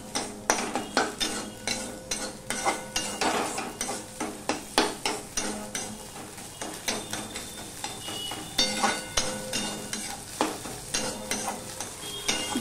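An egg cracked straight into a hot kadai fries with a constant sizzle while a metal spatula scrapes and stirs in a steady repeating rhythm, close and clattering, for an ash gourd dish.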